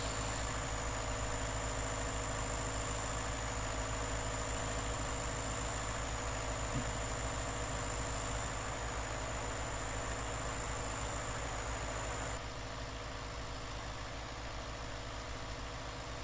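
Tractor engine idling steadily in Farming Simulator 2019, a constant low mechanical hum with a faint high whine, even and unbroken throughout, no talking.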